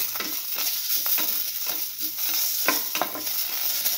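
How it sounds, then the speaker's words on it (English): Tomato pieces and red chilli sizzle in a stir fry pan with egg and bread, a steady hiss of hot oil broken by scraping stirs at an uneven rhythm, close and alone. "Now put in the tomato pieces and the red chilli, salt"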